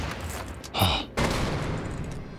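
Gunfire in the co-op shooter Wolfenstein: Youngblood, a couple of sharp loud bursts of shots over a busy game soundscape.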